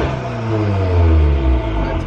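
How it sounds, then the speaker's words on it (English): An MK7 Volkswagen Golf R with newly fitted spool valves revs its engine, a steady mid-pitched drone that swells and eases over two seconds, with a turbocharger whine layered above it, close by and without talk. "That turbo singing."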